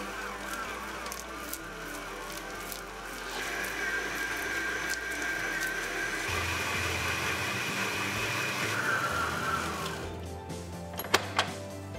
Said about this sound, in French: On va maintenant ajouter notre beurre et on va de nouveau pétrir quelques minutes.